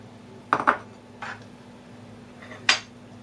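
A small bowl and kitchen utensils set out on a counter before making cheeseburgers: a couple of close clinks and knocks of dishware and cutlery, spaced apart over a steady low hum, with no talk.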